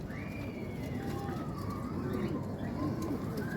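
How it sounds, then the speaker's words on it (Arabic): Pigeons coo softly in a loft, low warbling calls over a busy murmur of birds and rustling, with a few thin higher chirps scattered through. "فرد الحمام مصحصح في صحه"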